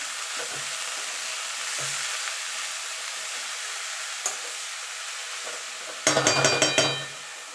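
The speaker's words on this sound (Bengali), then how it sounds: "যে শাকটা কেটে রেখেছিলাম সেটা দিয়ে দেবো দিয়ে ভালো করে নেড়ে নেবো" Chopped chickpea greens are tossed into a hot pan of tempering with radhuni and black cumin seeds, giving a continuous close sizzle and hiss, then a sharp burst of crackling and spoon clatter toward the end.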